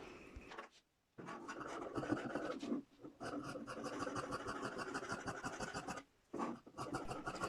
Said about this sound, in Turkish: Pantolonun çevresinden cetvelle çizim yapıyoruz.